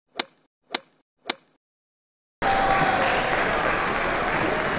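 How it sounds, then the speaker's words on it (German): Three sharp single hand claps sound close and alone, and after a brief silence a loud, dense burst of crowd applause follows and carries on steadily to the end. "Applaus."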